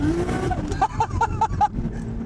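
A Nissan Skyline GT-R engine on high boost snaps through five quick, evenly spaced throttle blips over a steady idle rumble, each with a short tonal whoosh, loud and close.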